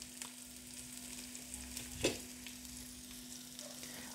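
Chopped onion frying in a pan with green chillies for dhaba-style paneer Hyderabadi, a soft steady sizzle throughout with one brief louder crackle midway, no voices.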